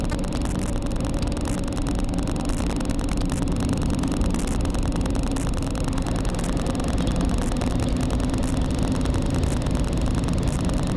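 A car drives through snowy countryside, giving a steady mid-pitched engine drone and road rumble with an even level from start to finish.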